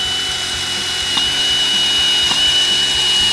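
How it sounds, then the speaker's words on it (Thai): A Ronix cordless drill rated at 45 newton-metres of torque runs steadily at high speed, drilling in a loud, continuous whine throughout, with a steady high motor tone and faint grinding underneath. "ทีนี้ลองมาดูนะครับถ้าเราใช้รอบสูงขึ้นนะครับตัวนี้เป็นตัวแรงบิด45นิวตัน"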